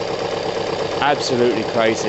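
Kawasaki ZL600 motorcycle engine idles steadily close by, then blips up in two quick rising revs, with someone speaking over it.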